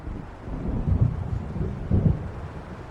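Low distant thunder rumbling from an approaching storm in Alan Wake Remastered, two soft swells of rolling bass under steady rain-like hiss, no talking.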